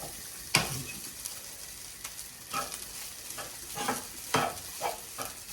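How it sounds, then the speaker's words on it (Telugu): Onions fry in a pan for fried rice, a steady sizzle broken by several scraping stirs and brief bursts of louder crackle, close and alone with no voices. "ఆనియన్స్ ఫ్రై చేసి ఫ్రైడ్ రైస్ చేస్తున్నాడు"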